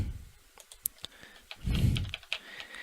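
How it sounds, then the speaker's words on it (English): Sparse clicks of keys on a computer keyboard, a few separate taps spaced unevenly, with a short muffled thump partway through, quiet and close. "So we'll type in the 13th here."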